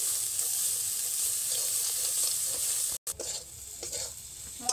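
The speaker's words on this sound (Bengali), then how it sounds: "1-2 সেকেন্ড মতন মশলাটাকে নেড়ে নেব।" Ground spices with cumin powder and salt are stirred in a kadai for an okra dish, giving a soft, steady sizzle with scraping stir sounds and a few brief clinks, heard close and alone.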